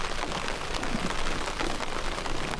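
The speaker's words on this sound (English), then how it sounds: "And the rain's okay, as long as it's not lightning." Steady heavy rain pours down outdoors during a fishing outing, a dense continuous hiss of drops striking surfaces close by, with no talking.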